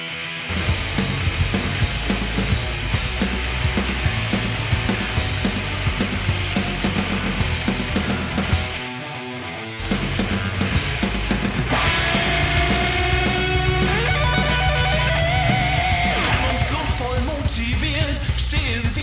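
A second guitar track in a live German pop-punk mix, playing loud and dense inside the full band for the whole stretch, with one brief dropout near the middle before the band comes back in.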